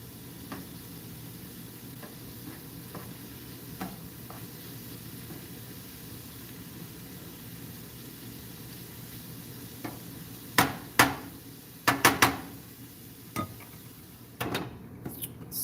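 Tofu scramble cooking in a pan over medium-high heat, a steady low sizzle underneath with scattered sharp clicks and scrapes of a utensil stirring against the pan, clustered toward the end.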